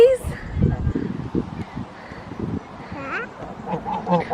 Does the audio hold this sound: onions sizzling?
no